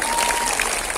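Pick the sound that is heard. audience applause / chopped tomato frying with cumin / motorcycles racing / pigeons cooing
audience applause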